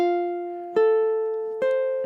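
Ukulele playing measure 10 of a gentle classical-inspired lullaby, three plucked notes spaced evenly and left to ring and fade, clear and close with no voices.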